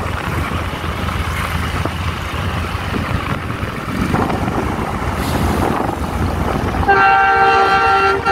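A Pakistan Railways train runs past Okara railway station in humid weather, a loud rolling rumble that builds steadily before a blaring multi-tone horn sounds near the end.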